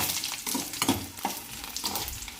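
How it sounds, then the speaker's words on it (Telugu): Dried red chillies fry in hot oil in a pan, a close continuous sizzle with soft stirring scrapes and no talk. "ఎండుమిర్చి అయితే వేసుకోవాలి. అవి వేయించుకోవాలి మంచిగా."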